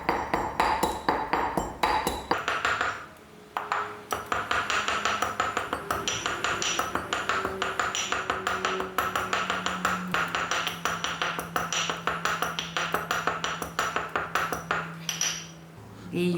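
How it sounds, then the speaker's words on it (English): A spice being ground very finely into powder for a Durban-style sour milk and cucumber raita, with steady scraping and clinking strokes repeating rhythmically and close by, pausing briefly midway. "You have to grind it out very fine into a powderish."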